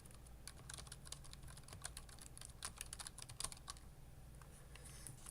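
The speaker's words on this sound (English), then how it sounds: "You just type in environment variables." Someone types on a computer keyboard, a steady run of quick, light key clicks with a few slightly harder taps, close and fairly quiet against low background hum.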